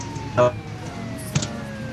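Police car sirens in Mafia II wail and sweep steadily through the mix as cars give chase, with short bursts of other game noise and brief voice-like sounds over the top.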